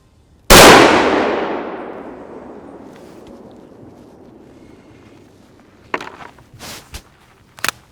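A single loud, close rifle shot fired while zeroing the sight, with a long echo fading over several seconds, followed by a few faint clicks and knocks.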